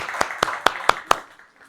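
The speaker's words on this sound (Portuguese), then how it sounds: "Palmas para ela, né?" A few people clap for a speaker after a workplace well-being talk in Brazil, five sharp, evenly spaced claps over under two seconds, close by and fairly quiet, with no voices.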